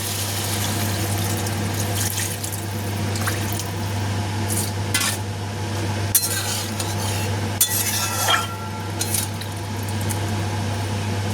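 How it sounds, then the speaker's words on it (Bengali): Water splashing and trickling into a pan of potato and chickpea curry cooked down with spices, steady liquid pouring with a few metallic clinks of a utensil against the pan, no voices. "এবার আমি এই পর্যায়ে এতে জল দিয়ে দেবো"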